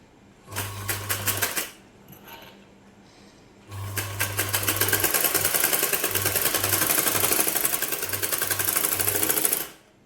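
A sewing machine stitches piping onto a blouse in two bursts, a short run and then a longer sustained one, with a rapid rattling hum and a low motor drone that pulses on and off.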